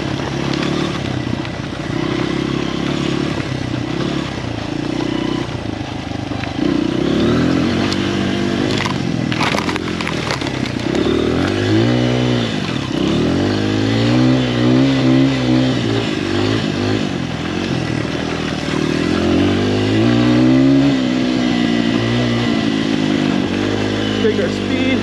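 A dirt bike ridden through deep, slippery snow and ice buzzes and revs loudly close by, its pitch rising and falling in repeated surges as the rider throttles, with clattering and a rider's voice talking over it at times.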